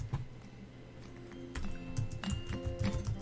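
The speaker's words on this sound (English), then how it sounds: "I'm just going to keep typing that it's a capital O." Keys being typed on a computer keyboard as answers are entered during an online trivia night, a soft scattered clatter of taps, growing busier in the second half, with faint background hum and no talking.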